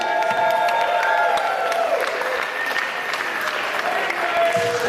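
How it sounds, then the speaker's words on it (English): Sustained applause from a community gathering crowd, loud and steady throughout with scattered cheers and whoops mixed into the dense clapping, and a voice calling out briefly over it. "So give them a round of applause."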